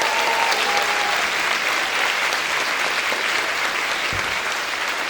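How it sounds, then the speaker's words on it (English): Steady applause from a school audience fills the whole stretch, dense and even clapping at a constant level with no voices standing out. "So if you give all of them a big round of applause,"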